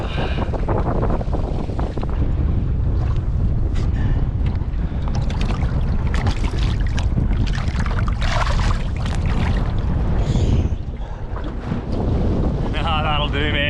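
Strong wind buffets the microphone throughout on a fishing boat off the Gold Coast, a loud continuous rumbling roar with gusts, water noise mixed in and a brief dip near the end.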